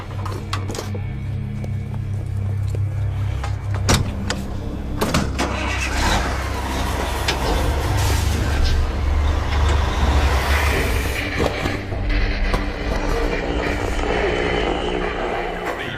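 A diesel truck running on cooking oil cranks and then settles into a loud, steady idle, close by with a deep rumble, as people talk faintly over it.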